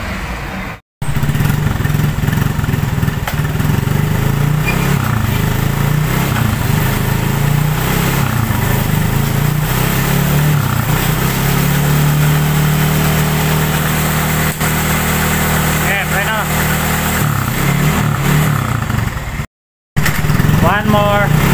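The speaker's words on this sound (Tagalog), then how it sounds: "Paandarin muna natin yung motor." Motorcycle engine running steadily and loud close by, a continuous idle with slight revving shifts, during a brake pad check.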